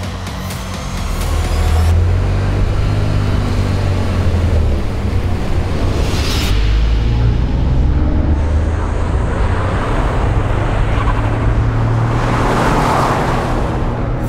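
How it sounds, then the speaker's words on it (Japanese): A Toyota GR Yaris set up in circuit mode laps a race track, its engine roaring loud and steady with shifting pitch through acceleration and gear changes, a sharp burst of noise near the start. "サーキットモードでセッティングされた GR ヤリスに乗って実際にサーキットを走ってみたいと思います。"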